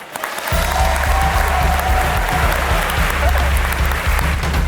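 After a brief moment of quiet, a large audience at a comedy debate show bursts into loud, sustained applause, a dense crowd of clapping heard close and continuing to the end.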